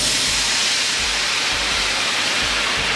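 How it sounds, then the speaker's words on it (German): White wine poured into a hot pan with cut peppercorns to deglaze it for a chicken pepper-cream sauce gives a loud, steady, broad sizzling hiss, close up, with faint low bubbling beneath and no speech. "Löschen das Ganze also damit ab und lassen das Ganze jetzt 2 Minuten köcheln."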